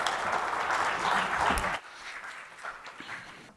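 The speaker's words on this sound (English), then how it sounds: "A round of applause, please." Audience applause at a conference on hotel development in Africa: a loud burst of clapping for under two seconds, then a sudden drop to sparse, quieter claps that fade away.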